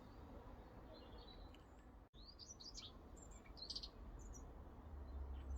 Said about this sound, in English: Now the dunnock singing in the background in response to my song